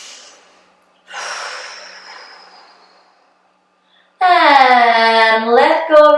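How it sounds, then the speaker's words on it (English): A long, breathy exhale drawn out during a seated back stretch in a home spine workout; it starts fairly strong and slowly fades over about two seconds, followed after a pause by a loud, sustained voiced tone. "take a nice long breath here"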